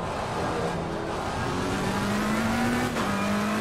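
A McLaren GT3 race car in a sim racing game lapping Brands Hatch, its engine droning steadily and rising in pitch through a gear, with tire noise and a brief shift dip near the end, loud and continuous with no talk.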